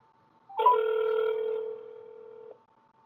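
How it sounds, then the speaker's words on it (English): A telephone rings once through a handset line, a single steady ringback tone lasting about two seconds and then cutting off sharply, loud and close with no talking over it. "It's ringing."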